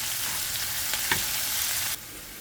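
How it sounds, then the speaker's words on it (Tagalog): Onion and garlic sauté in a pan for squid kare-kare, giving a steady, close hiss of frying with a couple of soft stirring scrapes before the sizzle drops off abruptly. "Nung medyo brown na po yung onion, ilalagay na natin yung garlic at lutuin po natin ng sandali yung garlic."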